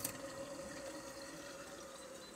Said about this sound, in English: Let's get this hot water out of the sink.